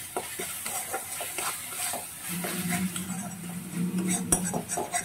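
Masala for crab do pyaza is stir-fried in a pan. Quick clinks of a utensil on metal and a rising sizzle come through, close and moderately loud.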